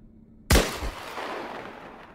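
A single sharp sniper rifle shot cracks in the Islands of Nyne battle royale game, loud and close, followed by a second thump and a long fading echo.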